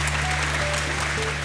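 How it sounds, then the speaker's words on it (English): An audience applauds an octopus performer in a children's reef-themed show, a dense unbroken burst of clapping over a low steady hum, with no voices. "A round of applause for Oliver, the octopus."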